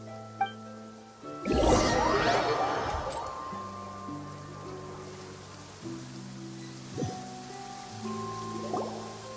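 Rain patters steadily in Genshin Impact, falling through a quiet game scene under sustained tonal background music, with a few brief clinks and drips standing out.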